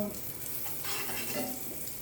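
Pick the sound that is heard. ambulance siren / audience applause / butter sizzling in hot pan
butter sizzling in hot pan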